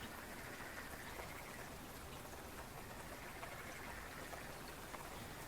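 Steady, soft rain falls continuously in a video game scene, an even hiss of drops with no voices and no breaks.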